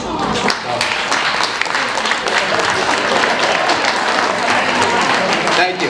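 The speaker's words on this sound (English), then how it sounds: "Thank you for clapping." A room full of people applauding at a candidates forum, loud sustained clapping that holds steady throughout.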